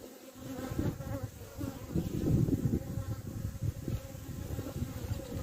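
Honey bees buzzing steadily at a small, weak colony as a hive frame is lifted and shown, a dense close hum with no talk.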